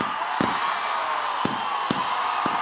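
Large crowd at a film pre-release event, a dense steady roar of cheering and whistles with sharp claps cutting through, loud and continuous.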